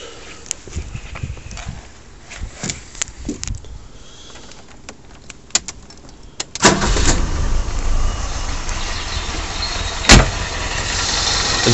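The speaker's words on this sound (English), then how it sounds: "Okay then, so let's fire up the car." A Ford Escort engine fitted with a Weber DCNF carburettor cranks and fires after a quiet stretch of small clicks and knocks, then settles into a loud, steady running idle close by.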